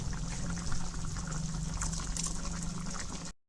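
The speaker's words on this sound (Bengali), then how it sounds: "দুধের মধ্যে এখন শাগুটা দিলাম।" Soaked sago poured into a pot of milk, a steady soft liquid wash and trickle with faint bubbling, close by and fairly quiet, running continuously before cutting off abruptly.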